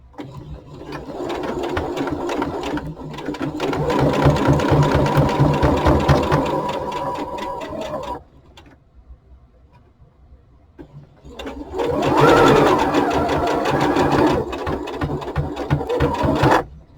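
A sewing machine stitches hat fabric pieces together in two steady, loud runs of rapid mechanical whirring, separated by a short quiet pause in the middle.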